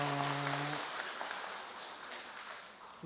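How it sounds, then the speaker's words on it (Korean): A church congregation applauds at a Sunday service for the church's anniversary, dense sustained clapping filling the room after a brief sustained tone at the start, fading slightly toward the end. "박수 치겠습니다."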